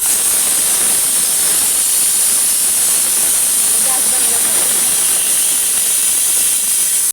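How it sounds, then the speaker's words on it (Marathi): A pressure cooker on the stove cooking amti gives off a continuous high steam hiss, loud and even throughout. "आपण ह्याच्या 1 शिट्टी देऊया."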